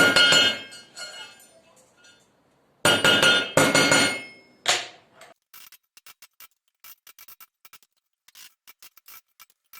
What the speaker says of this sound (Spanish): lo apoyo y le doy suavemente con un martillo para enderezarlo